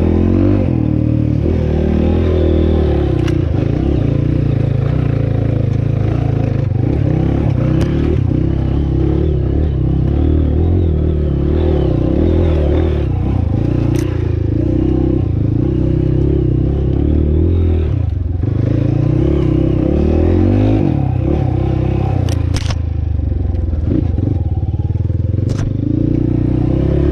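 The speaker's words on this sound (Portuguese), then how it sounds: "Ele subiu com a moto." A 250cc two-stroke dirt bike engine labors steadily and loudly uphill on a trail for the whole stretch, with rattling and scraping mixed in, as if straining under load.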